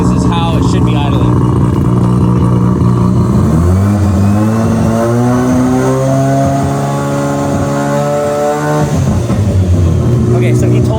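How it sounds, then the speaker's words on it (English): A rebuilt Mazda RX7 rotary engine runs loud and close, holding a steady rough idle with a rise in pitch partway through before it settles back. "this is how it should be idling."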